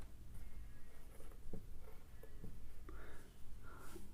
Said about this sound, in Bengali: তাই একক লিখলাম।